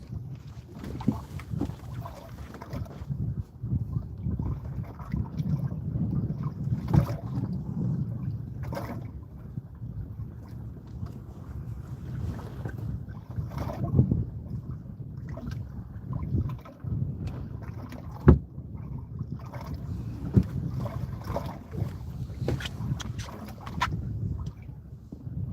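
Steady low wind rumble buffets the microphone throughout, with gusty swells and a few sharp knocks, and no one speaking.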